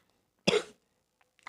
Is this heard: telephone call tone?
no